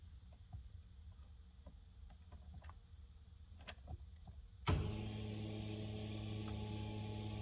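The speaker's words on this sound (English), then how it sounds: "See, the pump is staying on." Inside a quiet Honda Civic, faint clicks and ticks fade out, then a pump switches on abruptly and keeps running as a steady electrical hum.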